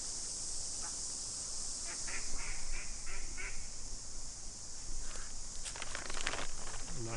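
Ducks quack in short, repeated bursts while being fed, fairly close but modest in level over a steady background hiss, with scattered rustling and footsteps.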